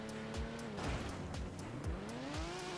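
A sports car in the Roblox-style game Car Crushers 2 revs and shifts through gears, engine pitch sweeping up and down repeatedly with several whooshing passes, moderately quiet and without voices.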